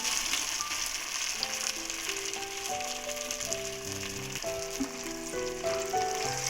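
Potato hariyali kababs fry in a pan over a normal flame, a soft continuous hiss and sizzle heard up close under gentle background music, with no talking.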